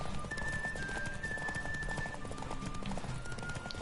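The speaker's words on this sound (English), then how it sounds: "Please tell me the race is almost over, because I don't think this horse can handle anything." Horse galloping during a race in The Witcher 3: fast, steady clip-clop hoofbeats run throughout over game music and ambience, with no voices.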